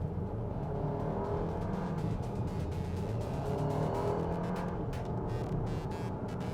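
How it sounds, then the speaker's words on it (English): A Volkswagen Tayron's engine drones steadily in sport mode while driving, a continuous mid-loud hum with wind and road noise and a few brief swells, no talking over it. "The car sounds a little noisy and interesting when you're driving in sport mode."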